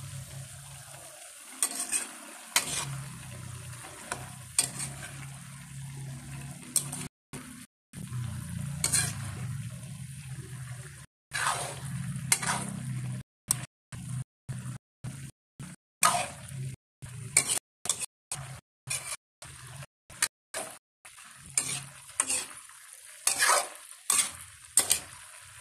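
Butter chopsuey vegetables stirred in a pan, with a spatula scraping and clacking against the metal in quick, uneven strokes over a soft sizzle. Short silent gaps break up the strokes.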